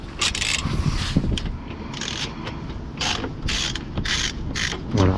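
A socket wrench with a bit ratchets out Torx 20 screws from the engine undertray of an Audi A1 8X, giving close, repeated clicking bursts in short uneven runs with small pauses between.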